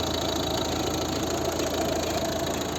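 A 2011 Volvo V50 with a 1.6 diesel engine and manual gearbox idles steadily and evenly, a close, continuous mechanical hum with a fine rhythmic clatter and no voices.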